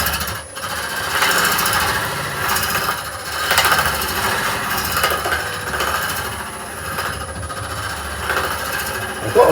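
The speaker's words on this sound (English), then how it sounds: "I've got a feeling we might be hitting a stone on the inside as well, which is not so much fun with a hollowing tool." A hollowing tool cuts inside a cherry root ball hollow form spinning on a wood lathe, giving a steady, close, rough scraping and chattering roar that runs continuously with small surges and dips.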